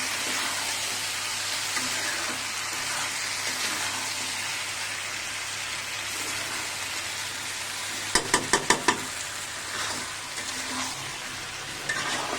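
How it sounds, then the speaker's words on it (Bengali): Chicken fries in a pan, a steady close sizzle running throughout, broken midway by a quick run of sharp utensil taps against the pan, with no voices. "চিকেনটা একটু ভাজা হলে আমি সসটা মিক্স করে দেবো।"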